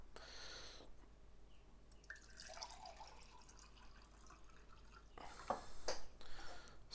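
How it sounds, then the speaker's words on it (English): Water running and dripping as a truck driver's water is filled in Euro Truck Simulator 2, short splashy bursts at the start and a louder spurt near the end over a quiet background. "Let's fill my water while I'm here."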